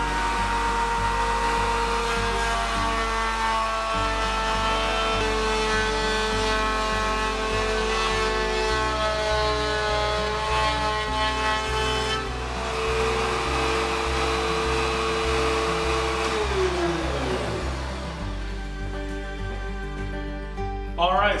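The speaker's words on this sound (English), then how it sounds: "I then power on the router and route a piece of scrap to test the table" A Bosch RA1811 router mounted in a Ridgid R4512 table saw table whines loudly and steadily while cutting scrap wood, its pitch shifting as the bit bites and then dropping near the end.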